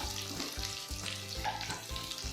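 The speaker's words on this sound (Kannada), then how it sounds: "ಇಲ್ಲಿ ಆನಿಯನ್ ಫ್ರೈ ಆಗಿದೆ." Onions sizzle in a pan for radish sambar, a steady close frying crackle with light stirring over it and no voices.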